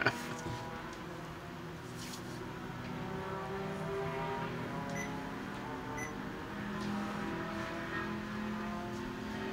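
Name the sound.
endurance race cars driving on track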